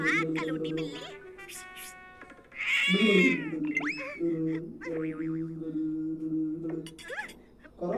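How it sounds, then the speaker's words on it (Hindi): A cartoon cat meows in a Bengali cartoon, with sliding, wavering cries mixed among animated voices, music and a brief boing-like effect at moderate level. "अरे भाग कलूटी बिल्ली।"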